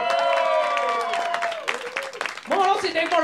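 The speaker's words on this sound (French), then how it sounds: "Applaudis!" A comedy show audience gives brief applause and cheering while tonal music plays over it, and a voice comes through near the end.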